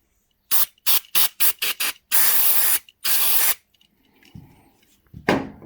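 An aerosol can of brake cleaner is sprayed during work on a CB750 motorcycle. It gives a string of short sharp hissing bursts, then two longer sprays, then quiet handling noise and one last short burst.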